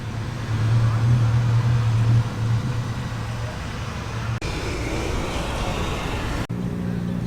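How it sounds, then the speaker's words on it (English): A rear-engined Mini fitted with a Honda VTEC engine, heard as a steady low engine hum and road noise at a motoring show, continuous with brief clicks and no talk. "here is a rear-engined Mini"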